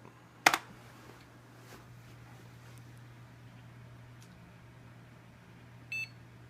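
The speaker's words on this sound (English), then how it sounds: "Beep." A computer boots up with a short, sharp burst near the start and a brief electronic beep near the end, over a steady low hum and quiet room noise.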